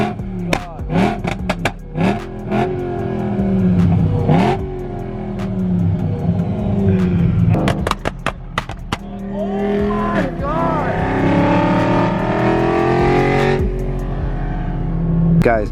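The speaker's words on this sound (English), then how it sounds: "The loudest M3 ever." A very loud BMW M3 revs hard at a car meet, its engine barking in sharp bursts with pops and crackles, close by, while people talk and shout over it.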